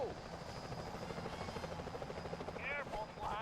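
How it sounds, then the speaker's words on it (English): Security helicopters in the stealth game Sly Cooper: Thieves in Time give a steady, close rotor drone throughout, with a voice talking over it. "Those security choppers are bad news"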